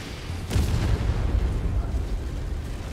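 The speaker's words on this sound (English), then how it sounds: "Of course, the artillery." Artillery fire in MechWarrior 5, a heavy boom landing early then a sustained low rumbling roar of blasts, loud and close, with faint talk underneath.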